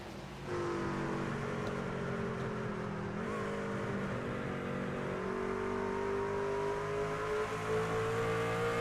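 A race truck in the iRacing Mayse Construction Truck Series drones at steady high revs with a brief dip and pitch shift as it changes gear, then climbs again, loud and continuous with no talk.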